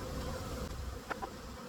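Honey bees buzz softly around a hive during a fall honey harvest, a faint steady drone with a couple of brief louder passes near the end.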